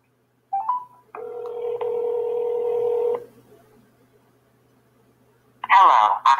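A phone placing a call gives a short dial beep followed by a steady, loud electronic tone lasting about two seconds. A pause follows, then a brief burst of a voice at the very end.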